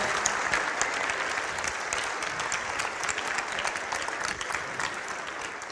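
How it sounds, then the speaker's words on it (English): A high school audience in an auditorium gives a guest a steady, dense round of applause, crisp clapping heard close and continuous throughout. "let's give one more round of applause for Hunter for being here today"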